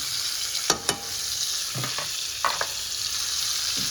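Liver and onions frying Jamaican style in a pan, a steady broad sizzle with a few sharp spatula scrapes and stirs across the pan, close and fairly quiet, with no talking.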